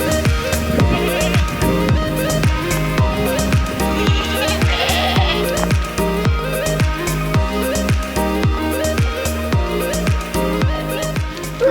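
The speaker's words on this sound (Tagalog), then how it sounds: "So ito po yung mga kambing ni Father Nguyen." Anglo-Nubian goats on a farm in Culion, Palawan bleat loudly and close by, calling over one another in a steady, overlapping chorus that continues without any speech.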